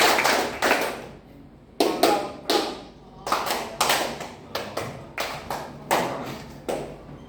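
Several rounds of group hand clapping from a classroom clapping game, short bursts of a few crisp claps each, repeating with brief pauses between, close and fairly loud with no talking over them.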